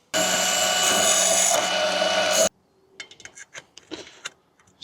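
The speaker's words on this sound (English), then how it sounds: "and then I'm just gonna cut it with the bandsaw and see how close I am." A bandsaw cuts through a metal vent part for a cargo trailer, a loud, steady high whine lasting about two and a half seconds that stops abruptly, followed by scattered clinks and handling noises.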